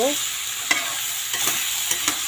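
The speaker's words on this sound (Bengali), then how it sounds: "এই দেখো পেঁপে আর শশাটা কেটে রেখেছিলাম এটা দিয়ে দিলাম এখানে একটু নেড়ে নেব" Chopped papaya and cucumber sizzle in a hot pan as a spatula stirs them, a steady close frying hiss broken by several soft scraping knocks, with no talking.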